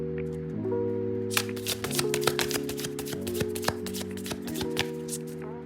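Tarot cards being shuffled by hand, a steady run of crisp riffling flicks and soft taps heard close and alone, with a quiet tonal hum underneath.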